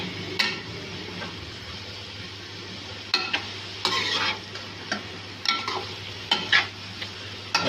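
Carrots lightly frying in a pan for Chinese rice, a steady soft sizzle over a low hum, with occasional brighter scrapes and clinks of stirring scattered through.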